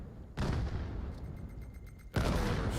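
Explosions from a thrown grenade in the VR shooter VAIL, a broadband burst near the start followed by a sustained roar, then a second loud blast near the end, with faint in-game chatter between.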